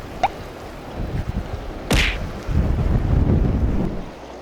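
Strong gusts buffet the microphone on a sea cliff during rock fishing, a low continuous roar that swells and sustains, with a sharp brief knock partway through.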